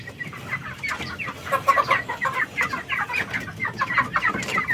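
Several free-range chickens cluck steadily and overlapping at close range, a busy, continuous flock chatter with no talking.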